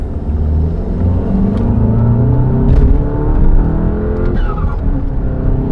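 Tuned Volkswagen Golf MK7 GTI with a Stage 1 tune accelerating from inside the cabin, a loud steady engine rumble and whir rising through the gears, with no talking.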